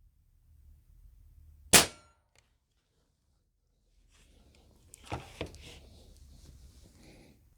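A Crosman Crusher air rifle dieseling on lamp oil fires one sharp, metallic clanging shot near the start, followed after a pause by a few softer clicks and rattles of handling, all fairly quiet.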